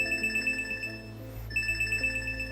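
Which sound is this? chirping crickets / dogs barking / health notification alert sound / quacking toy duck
health notification alert sound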